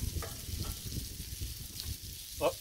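Cajun shrimp sizzle and are tossed in a pan on a Blackstone griddle, a close, steady frying crackle broken by scraping stirs and a sharper clatter near the end.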